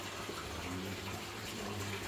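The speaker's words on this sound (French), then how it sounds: "On inverse les vannes et le remplissage de l'aquarium se fait tout seul." A 1000-litre aquarium being refilled through a hose with a mix of reverse-osmosis and tap water, heard as a steady gushing pour with constant splashing and an even, unbroken flow.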